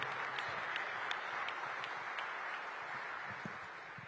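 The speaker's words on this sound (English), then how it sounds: "give a big, jubilant round of applause for NBA Commissioner Adam Silver" At a groundbreaking for the Capital One Arena redevelopment, a crowd applauds NBA Commissioner Adam Silver, producing a faint, steady patter of clapping heard from some distance with no voices on top.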